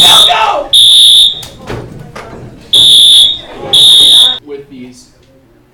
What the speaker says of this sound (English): there's your fire alarm